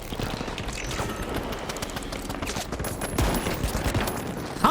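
Rapid video game gunfire rattles steadily throughout in dense bursts, like a fusillade of shots coming from several directions, swelling louder near the end with no speech over it.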